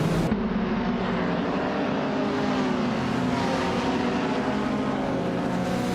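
A 2011 Peugeot 308 GTI in a racing video game roars continuously, a loud steady engine drone with broad noise and no speech.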